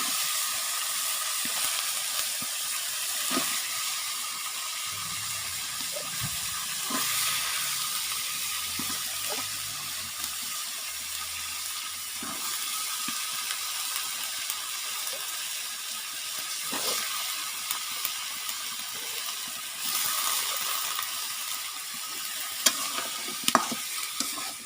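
Cut vegetables frying in a pan with cooked spice paste for a tengra fish dish, a steady loud sizzle with occasional stirring scrapes and clatter, no talking.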